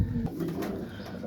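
Racing pigeons in their moulting season coo softly on a rooftop, a short low burbling call close by.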